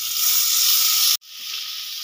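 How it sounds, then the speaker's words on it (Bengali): Onions with chopped tomatoes frying and browning in a pan give a loud, steady sizzle that cuts out for a split second midway, then resumes slightly quieter. "পেঁয়াজটা একটু ব্রাউন কালার করে ভেজে নেব।"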